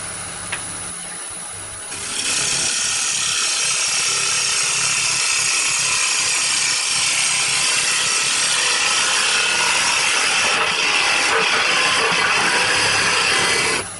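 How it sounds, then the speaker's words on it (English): A bowl gouge cuts a cherry wood bowl on a lathe, giving a steady, loud hissing scrape that starts after a quieter lead-in and continues without a break. "so I've gone back to my bowl gouge"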